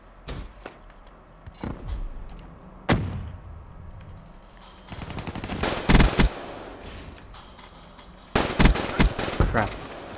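Gunfire in a Call of Duty Domination match on PS4, on the Eclipse DLC map Spire, comes as scattered single shots and rapid automatic bursts with occasional thuds, loud and close, the heaviest volleys near the middle and end.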